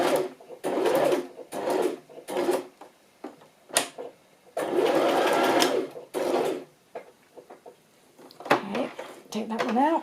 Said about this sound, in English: I'm clearly not nearly as quick as Rachel is on this sewing business